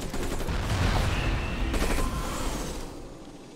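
Tac jets bombing aliens in Civilization: Beyond Earth produce a dense, rumbling volley of close explosions and gunfire-like blasts that gradually fade toward the end.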